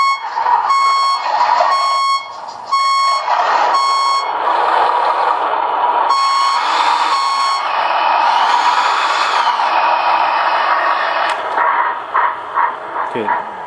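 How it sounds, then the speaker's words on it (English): A Tamiya 1/14 Scania 770S RC truck's sound unit plays repeated electronic reversing beeps in steady pulses, interrupted by other synthesized truck sounds, fairly loud and close. "So my backing beeper operates when that's in reverse."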